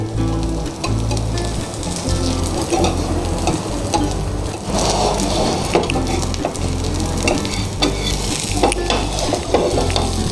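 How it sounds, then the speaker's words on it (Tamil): Wheat neer dosa frying on a hot pan just after being flipped, a loud, close, continuous sizzle with crackling bursts and occasional light scraping, no talking. "ஸோ ஃப்ரெண்ட்ஸ், இப்போ வந்து நம்ம தோசையை திருப்பியாச்சுங்க. ஸோ 2 பக்கமும் நல்லா வெந்துடும்."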